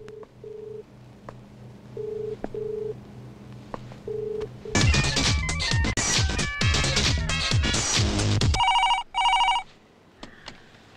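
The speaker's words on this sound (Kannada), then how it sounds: "ನಾನು ತುಂಬಾ ಹೊತ್ತಿಂದ ಟ್ರೈ ಮಾಡ್ತಿದ್ದೀನಿ, ಅವಳು ಫೋನೇ ರಿಸೀವ್ ಮಾಡ್ತಾ ಇಲ್ಲ" A telephone rings unanswered in a Kannada movie scene, short repeated ring bursts, then a loud burst of music and brighter electronic tones, with no speech.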